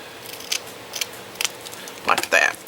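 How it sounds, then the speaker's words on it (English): Scissors snip at an angle through material for a large Christmas tag door decoration, several short crisp cuts spaced apart, then a quicker closer pair near the end, with a voice speaking lightly in the background. "So I'm just cutting it at an angle."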